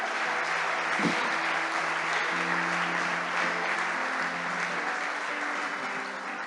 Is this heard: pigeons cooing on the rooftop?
no